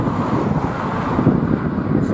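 Strong wind on a hilltop in County Down buffets the microphone with a loud, continuous roar and gusty rumble throughout, with no voices.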